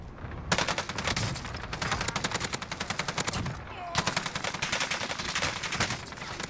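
Sustained automatic gunfire in Warzone on Rebirth Island, a loud, fast rhythmic stream of shots with a brief pause midway before firing resumes.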